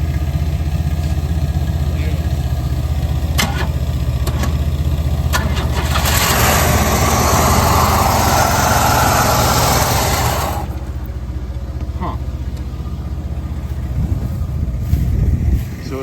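A 1993 Oldsmobile Cutlass Ciera engine cranks, fires and idles roughly up close, with a loud burst of revving in the middle before settling back to an uneven idle.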